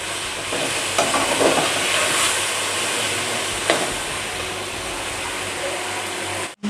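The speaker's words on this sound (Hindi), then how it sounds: "अच्छा सा इसको 2-3 मिनट के लिए भून लें।" Masala for chicken biryani fries loudly in a pan, a dense steady sizzle with a few brief stirring scrapes, then cutting off abruptly at the end.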